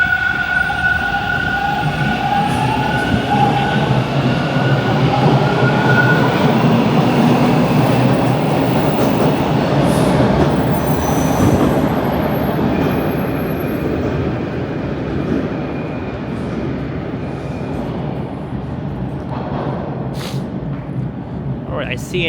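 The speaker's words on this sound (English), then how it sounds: "I see an eastbound train rolling in" An eastbound Toronto subway train rolls into a station with a heavy, loud rumble and metallic squealing tones that ease into a lower hum as it slows.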